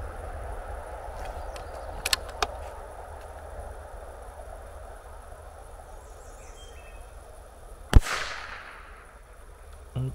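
Over a steady chorus of crickets, one sharp rifle shot cracks near the end and rolls away outdoors. A couple of faint ticks come just before it.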